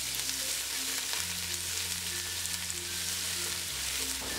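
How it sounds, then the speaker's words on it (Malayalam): Sliced onion sautéing in a pan with cardamom, cinnamon, cloves and bay leaf, a steady continuous sizzle and fry at moderate level, with faint background tones and no talk. "ഈ സവാളയും ഇതിലേക്ക് ചേർത്ത് വഴറ്റി കൊടുക്കാം."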